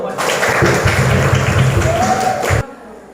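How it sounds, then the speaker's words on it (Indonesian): Students in an Islamic religious education classroom clap their hands together in a dense burst of applause lasting a few seconds, close and loud, with voices mixed in, then stopping abruptly. "tepuk tangan dulu"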